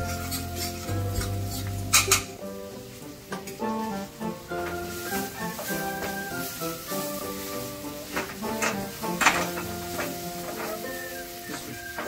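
Spatula scraping and stirring a vada pav spice mixture of red chili powder and salt in a pan, with repeated short rasping strokes and faint sizzling over steady background music.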